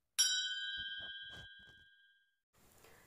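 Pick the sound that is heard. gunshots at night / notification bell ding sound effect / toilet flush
notification bell ding sound effect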